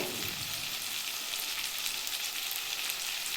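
Ginger paste, garlic paste and chili powder frying in hot oil in a pan, a bright, steady sizzle that stays loud and even throughout, with no voices.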